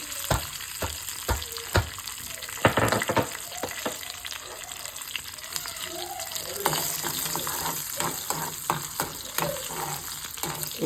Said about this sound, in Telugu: తర్వాత దీనిలో పచ్చగా దంపుకున్న వెల్లుల్లిపాయలు వేద్దామండి.